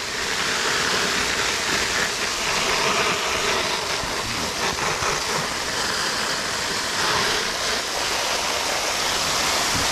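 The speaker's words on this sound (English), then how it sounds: "All right, that was quite the rainstorm." Heavy water spray pours onto an HMG Unbound 55 backpack in a simulated rainstorm, a loud, steady hiss and patter of drenching water that continues without a break.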